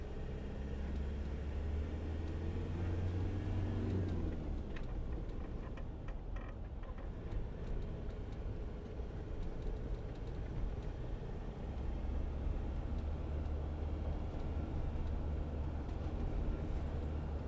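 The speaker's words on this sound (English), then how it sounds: "I was going up in 5th gear then." A 2014 Land Rover Defender 90 2.2 TDCi hard top driving in fifth gear, its steady engine drone and road rumble heard from inside the cab, without speech.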